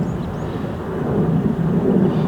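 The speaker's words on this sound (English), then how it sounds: "you'll hear a jet aircraft off in the distance" A distant jet aircraft flying high overhead gives a low, steady rumbling roar that swells slightly over a couple of seconds, with no voices.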